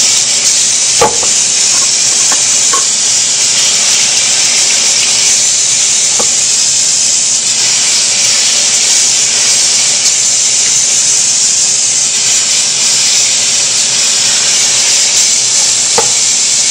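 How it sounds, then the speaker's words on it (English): Lamb shoulder chops are rinsed one by one in cold water in a pan, making a steady, loud hiss of running water broken by a few faint clinks. "Each of the lamb shoulder chops being washed up individually in cold water and put back into the same pan from which they came from"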